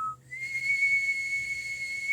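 A single sustained, steady whistle held loud and clear at one high pitch for about two seconds, the whistler drawing and pushing breath through pursed lips, with no talk over it.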